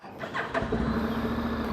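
A 2025 Honda X-ADV 750 scooter engine cranks and catches around half a second in, then settles into a steady, close idle hum.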